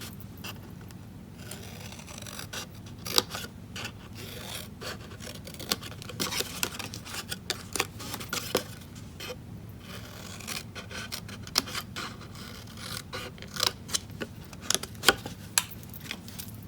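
Steady scissors cutting through a cardboard gift box along a score line, with a repeated rasping snip and irregular louder clicks as the blades close. No voice is heard.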